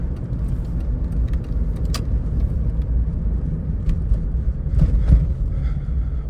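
Jeep Cherokee XJ interior on a cold day, a steady low road rumble with small rattles and clicks from the cabin, continuous and close, no talking.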